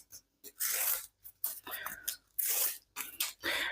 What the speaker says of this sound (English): We just have some runs of double thick card to cut today